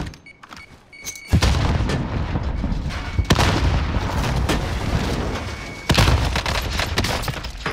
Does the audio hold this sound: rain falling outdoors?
no